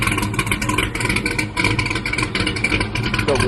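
A Chevrolet S10 pickup's engine revs hard and loud, a rough, continuous roar close by that keeps the whole truck shaking and spitting, with no voices over it.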